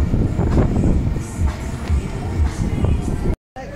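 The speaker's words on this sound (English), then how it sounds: "Here we go, Barry Island Ghost Train." A ghost train ride carriage at Barry Island pleasure park rumbles and clatters along its track nearby, steady and loud, ending in a brief cut to silence.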